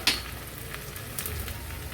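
Ginger-garlic paste, curry leaves and cumin seeds sizzle and crackle in hot ghee for a tempering, a steady frying hiss opening with a sharp pop close by.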